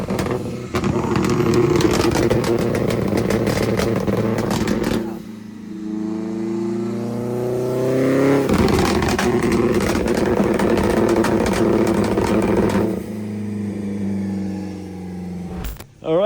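A 600 hp all-wheel-drive BMW E46 M3 Compact on a power run, engine revving hard and loud through two long high-rpm pulls separated by a brief drop, ending with a sharp pop.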